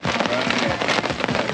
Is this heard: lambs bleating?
no